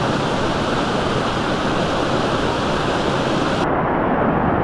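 Water pours down from high above onto flat ground, a steady, loud, broadband rush of falling water with no letup and no voices.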